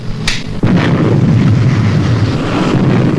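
Rocket engine test firing on a model aircraft in a puppet adventure series, igniting with a sharp burst then a loud sustained roaring rush that continues steadily to the end.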